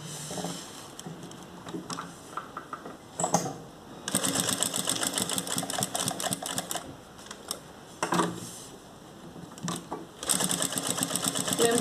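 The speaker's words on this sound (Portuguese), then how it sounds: "vamos fazer uma costura à volta toda, deixando um espacinho aqui aberto para a gente poder desvirar" A sewing machine stitches around fabric lining in bursts of steady, rapid needle chatter, with brief pauses between runs and no voice.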